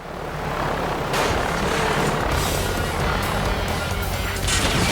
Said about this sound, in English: There's a new mecha bird helicopter thing with gun feet that's buzzing about